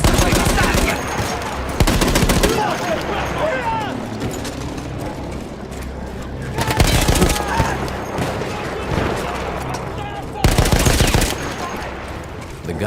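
A machine gun fires in Battlefield during a World War I battle against Austro-Hungarian troops, with loud bursts recurring in clusters over dense battle noise and shouting voices.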